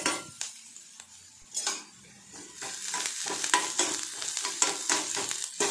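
Onions frying in a pan for a drumstick-flower and egg stir-fry: a steady close sizzle broken by repeated scraping stirs and light utensil knocks, with no voices.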